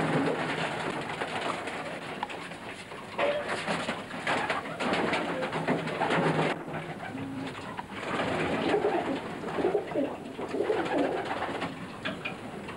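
Pigeons coo repeatedly, soft and throaty, inside a breeding compartment, with several birds overlapping in a close, continuous murmur.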